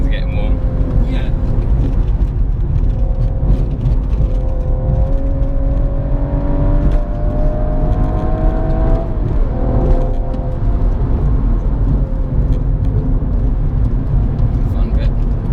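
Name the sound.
BMW M135i car driving laps on track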